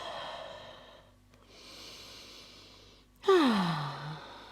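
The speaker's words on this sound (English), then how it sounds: "Exhaling from the mouth." A long breath blown out through the mouth during a relaxation exercise, heard as a soft airy rush that fades, then a sharper, louder exhale with a voiced sighing fall near the end.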